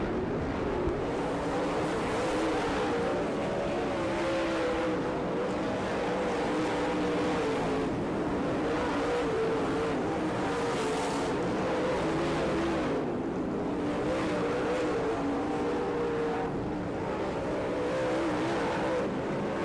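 Late model stock cars race on a track at Gibsonton, Florida: a continuous, loud engine drone from several cars rises and falls in waves as they pass through the laps.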